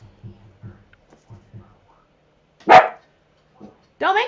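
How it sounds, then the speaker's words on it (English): A dog gives one loud, close bark, then a shorter yelping bark a moment later, with soft muffled sounds before it. "Don't make the dog bark."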